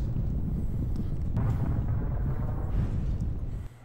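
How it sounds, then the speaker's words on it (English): An explosion in the video game Tex Murphy: Overseer rolls out as a sustained, rumbling roar that swells and then fades, heard alone without talk. "That was the most realistic explosion I've ever seen"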